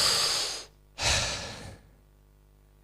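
Two deep breaths drawn through the mouth during a guided breathing exercise, each a broad, airy rush lasting under a second, close and fairly loud, separated by a short silent pause, with a third breath just starting at the end.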